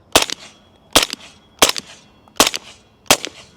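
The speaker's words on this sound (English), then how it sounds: "That was 20 rounds of 300 blackout." A rifle fitted with a clone trigger fires 300 Blackout 220-grain rounds, five loud sharp shots at a slow, fairly even pace, each followed by a brief decaying echo, with no talking.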